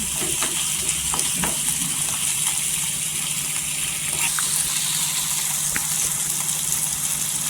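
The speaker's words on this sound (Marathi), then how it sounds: "दोन ते तीन हिरवी मिरची आहे ते तेलावर परतून घ्यायचं" Two or three green chillies fry in oil over softened tomato for a dried shrimp chutney. A loud, constant bubbling sizzle carries throughout, with scattered clicks of stirring and no speech.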